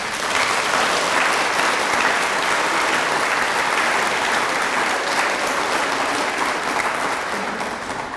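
A steady, full wash of audience applause at a high school career-tech honors ceremony, recognizing students, continues unbroken and evenly loud throughout.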